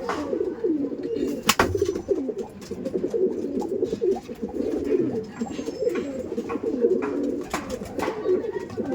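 Ablook pigeons give steady overlapping low coos, a dense throaty murmur from several nearby birds that runs throughout, with a sharp knock near the start.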